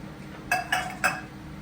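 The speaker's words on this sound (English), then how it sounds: "Just stir these around." Three quick metallic clinks of a spoon against a pot as canned tomatoes are stirred into turkey chili, close and fairly soft over a low background hum.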